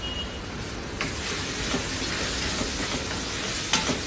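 A vegetable xacuti fries in a pan, giving a steady loud sizzle with occasional stirring scrapes and clicks over the continuous hiss.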